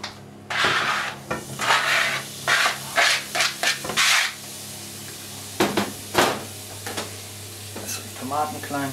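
Garlic sizzles in olive oil in a hot pan while a utensil stirs and scrapes in uneven bursts, close up, with a brief voice near the end.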